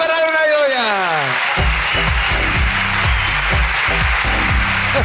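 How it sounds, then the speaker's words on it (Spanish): A live podcast audience breaks into applause after a voice calls out over a rising and falling tone; the clapping then continues steadily and fairly loud for the remaining seconds. "¡Aplauso para Luna y Goya!"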